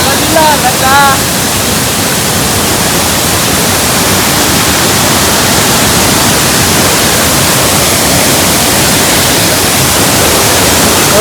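A hidden waterfall near Indapur village roars loud and close with a steady, unbroken rush of falling water that fills the whole stretch, with a brief voice at the very start.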